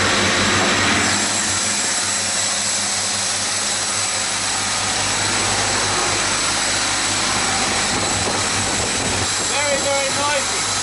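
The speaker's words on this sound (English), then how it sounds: "the area by the engine is deafeningly loud." A Russian hydrofoil boat's engine roars loudly and steadily, droning continuously with a constant low hum and high whine, close by and unbroken throughout.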